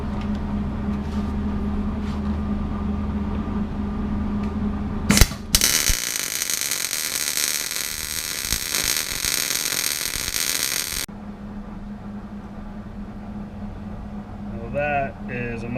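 A Hobart Handler 140 MIG welder laying a test bead, a steady loud crackling hiss lasting about six seconds that cuts off abruptly, with a quieter machine hum before and after.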